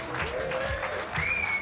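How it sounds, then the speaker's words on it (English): Brief applause and cheering from a small group after a post-tour cycling criterium, with voices calling out over the clapping; dense and fairly close throughout. "Give him a round of applause."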